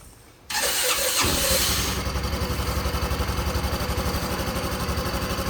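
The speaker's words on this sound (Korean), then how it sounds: "그냥 시동을 한번 켜보겠습니다" A motorcycle with a fault where it stalls when electricity is drawn starts up with a sudden loud crank, then settles into a rough, pulsing idle close by.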